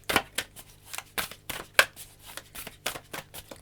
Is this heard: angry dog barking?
no